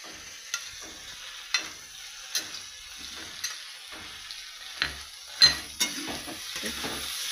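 Prawns frying in a pan, a soft steady sizzle broken by occasional sharp clinks and scrapes of a utensil stirring them, close and moderate in level.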